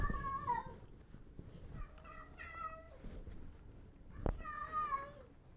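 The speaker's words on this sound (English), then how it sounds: "I hope you heard that exclamation of weird cat" A house cat gives several drawn-out, wavering meows in a quiet room, with a sharp knock partway through.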